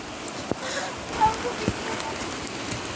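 Rain falls outdoors in a soft, steady patter on surfaces nearby, with a few louder drips and faint voices in the background.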